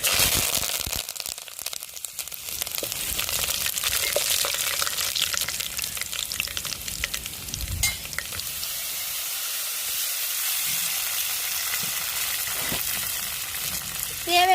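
Curry leaves and seasoning frying in hot oil give a steady, close sizzle with crackling bursts and occasional clinks, carrying on without pause and with no talking.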